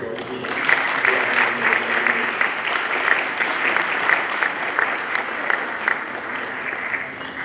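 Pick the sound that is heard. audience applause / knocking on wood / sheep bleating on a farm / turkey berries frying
audience applause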